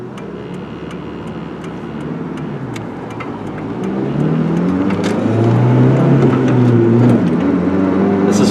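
A manual Ford Ranger pickup drives through rush-hour traffic. Its engine note climbs as it accelerates, then dips at a gear change, with faint ticking clicks from inside the cab.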